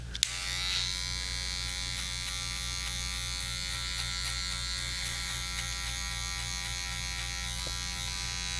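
Electric hair clippers fitted with a number 2 guard cutting hair around the temples during a high fade, a steady close mechanical buzz with a constant hum running unbroken throughout.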